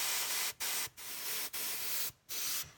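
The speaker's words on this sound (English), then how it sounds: "So I'm spraying it from super hard, and I'm giving a once over throughout the whole thing just to unify it." An airbrush or spray can spraying paint over a tabletop miniature: a fairly quiet, steady hiss in several bursts of roughly half a second to a second, with short gaps between them.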